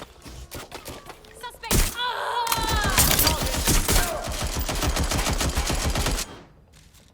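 Rapid automatic gunfire in Watch Dogs Legion, a dense, loud, sustained burst lasting several seconds before cutting off abruptly, with a brief voice heard just before it.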